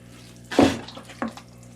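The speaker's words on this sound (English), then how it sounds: "So I'm going to give this a good watering." Water is poured over freshly cut juniper cuttings in a pot, two short splashing bursts, the first louder and longer, the second briefer, close by in a quiet indoor space.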